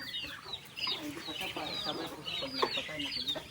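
Farmyard chickens cluck in a scattered, irregular chorus, with short calls overlapping at moderate distance and steady low background noise from the surrounding yard.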